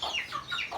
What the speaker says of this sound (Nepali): यो चाहिँ अब कुखुरा पनि भयो,